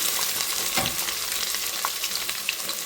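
Onion hits hot masala in a pan for village-style chicken biryani: a soft thump, then a dense, even sizzle and crackle up close with faint stirring, no talking.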